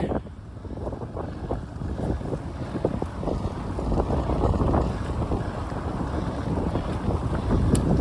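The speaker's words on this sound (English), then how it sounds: "The wind blew right into my mouth. It's blown from the west-southwest." Strong wind buffeting the microphone outdoors by the sea near a boat, a continuous loud low rumble with gusty swells throughout and no voices.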